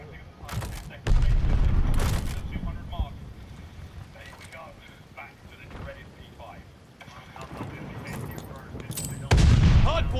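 Gunfire rattles through a Call of Duty: Vanguard hardpoint multiplayer match, with heavy bursts at the start and end and lighter shots and voices in between.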